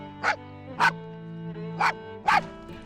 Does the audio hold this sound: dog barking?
yes